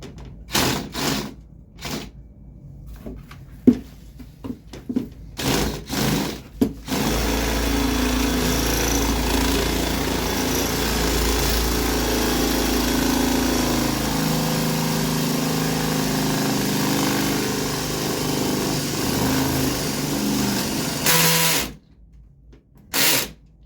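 A few short bursts of a power drill with a 1/4 inch bit lead into a long, loud, continuous drilling run that grinds on for many seconds before stopping.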